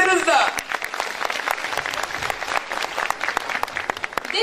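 A crowd at a folk dance festival applauds steadily with dense, continuous clapping, fairly close, with a voice briefly audible at the start and end.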